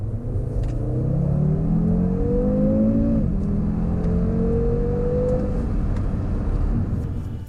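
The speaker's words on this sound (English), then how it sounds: "I'm betting it's enough to make a difference on the 30 to 70 sprint." A 2019 Audi RS3 with a particulate filter accelerates hard from 30 to 70, its engine note climbing through two rising gear pulls with a shift between, a steady loud rumble heard from inside.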